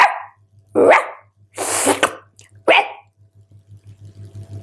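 A shaggy old dog barks four times loudly and close by, with sharp separated barks over a low rhythmic background pulse.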